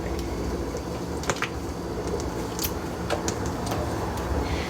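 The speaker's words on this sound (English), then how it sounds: "Let's do some dish soap on top." Dish soap is poured over a pile of laundry detergent powder, giving a close, wet squishing and soft crackling with a few small drips and clicks over a steady hiss.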